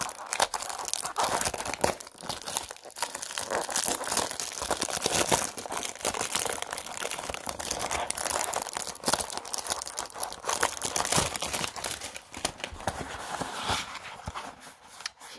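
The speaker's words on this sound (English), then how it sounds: "Seems to be some kind of problems opening these packets." Lipton lemon and ginger tea packets are handled and torn open, giving close, continuous crinkling, tearing and crunching of packaging.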